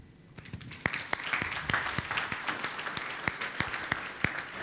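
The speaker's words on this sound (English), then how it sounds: "I want a lot of applause for the winners." Applause for award winners at a public administration ministerial conference, a moderate crowd clapping in a steady patter with a few sharper individual claps standing out, building briefly near the end.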